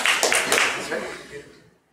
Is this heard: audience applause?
yes